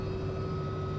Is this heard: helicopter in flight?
yes